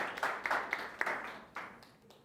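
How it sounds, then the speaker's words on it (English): Audience applause for a panel speaker at a youth leadership panel event, a short burst of scattered clapping that fades out over a couple of seconds. "can you give her a round of applause?"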